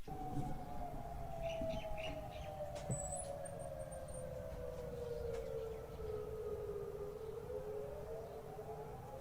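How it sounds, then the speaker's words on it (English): Civil defense sirens in Hawaii wail faintly in the distance with a long, slow rise and fall in pitch, held steadily under constant background hiss and occasional bird chirps, with no talking. "he told me that these sirens were going off over the weekend and now today again"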